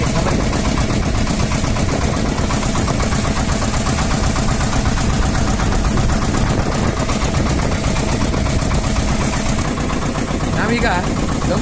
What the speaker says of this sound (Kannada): ಮೀನುಗಾರಿಕಾ ಬಂದರಿಗೆ ಯಾಂತ್ರಿಕ ಮೀನುಗಾರಿಕಾ ದೋಣಿ ಬರ್ತಾ ಇದೆ ಗಮನಿಸಿ